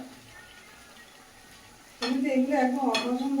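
Lentil dumplings (dal bori) go into a pan and are stirred, with a sudden clatter of utensil on metal and sizzling after a quieter stretch, close to the listener.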